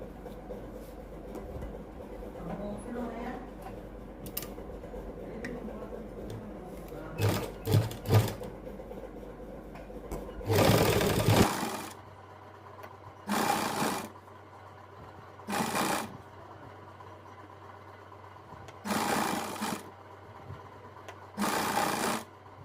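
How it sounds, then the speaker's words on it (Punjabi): A sewing machine stitches lace onto a fabric strip for a sleeve design, running in several short bursts with pauses between, fairly close and clear, with handling noise before the first run and no talk. "ਇਹਦੇ ਨਾਲ ਨਾਲ ਆਪਾਂ ਸਲਾਈ ਲਾ ਦਾਂਗੇ ਇੱਥੇ ਇੱਥੇ ਪੱਟੀ ਦੇ ਉੱਪਰ"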